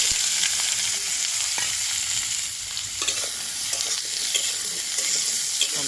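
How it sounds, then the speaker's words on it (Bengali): Eggplant and potato pieces frying with cumin seeds in a pan, a steady close sizzle with stirring scrapes and clatter throughout, no voices. "আলুটা ভাজা হয়ে গেছে"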